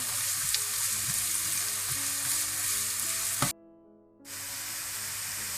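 Cabbage and vegetables stir-frying in hot oil for Hakka noodles, a loud close sizzle with stirring clinks and scrapes, briefly dropping out before the sizzle resumes, no talk.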